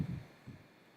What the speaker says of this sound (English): You can hear my dog running around upstairs.